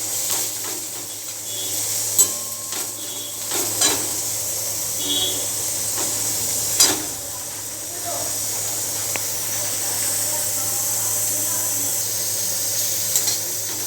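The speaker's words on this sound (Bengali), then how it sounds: "পেঁয়াজ কষাচ্ছি।" Chopped onions sautéing in a pan of oil for a Bengali fried Bombay duck (loitte fish) jhuri, a steady, fairly soft hiss running throughout with a few faint scrapes and clicks.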